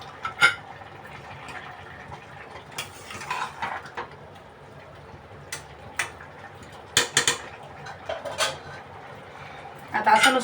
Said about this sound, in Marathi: असं वरती झाकण ठेवते